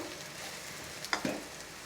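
Peanuts, curry leaves and green chillies fry in a home kitchen pan with spiced pieces, a steady close sizzle broken by a couple of brief stirring clatters.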